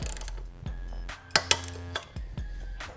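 Torque wrench tightening a swingarm spool slider into its threaded boss on a 2015+ Suzuki GSX-S1000F, giving a few sharp metallic clicks and ratcheting knocks, close and moderately loud, with no talk.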